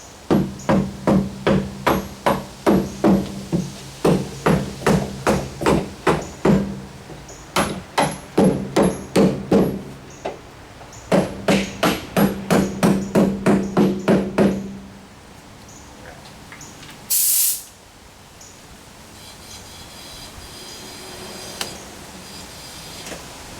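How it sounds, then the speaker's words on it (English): An air hammer taps at bolts on a party barge. Rapid, loud metallic hammering comes in several close bursts of repeated strikes, then gives way to a brief hiss and quieter shop noise. "let's hook some air to it. Try tapping the bolts out first."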